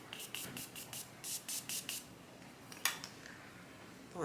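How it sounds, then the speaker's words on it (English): A continuous-mist makeup setting spray with cucumber, ginseng and rose extracts is pumped in quick soft hissing bursts, about six in a row, then one more, close and quiet. "All makeup brands should come out with like a continuous mist setting spray."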